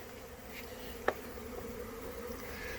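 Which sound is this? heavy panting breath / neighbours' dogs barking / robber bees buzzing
robber bees buzzing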